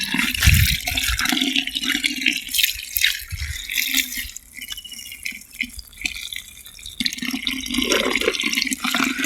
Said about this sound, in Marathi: हे पूर्ण पाणी असं भरून घ्यायचं.